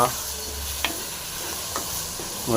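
Green peas frying in a pan give a steady close sizzle, broken by a few quick scraping stirs.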